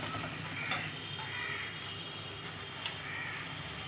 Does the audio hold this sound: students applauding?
no